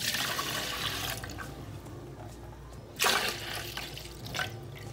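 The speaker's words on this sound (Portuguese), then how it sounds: "Nós vamos colocar aqui, então, 2 copos de 300 ml de leite." Milk poured from two 300 ml cups into a container for a savory pie batter: a splashy liquid pour at the start, a quieter stretch, then a second short, louder pour.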